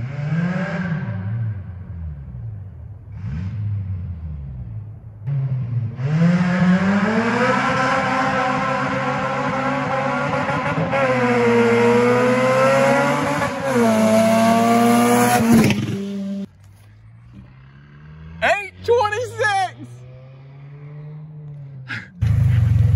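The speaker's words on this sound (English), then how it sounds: "Throw Pops in the car. Let's see what happens." A loud RSX race car engine revs hard on a track, climbing through gears with rising whines, then fades and sputters as it slows, with short bursts of engine noise afterward.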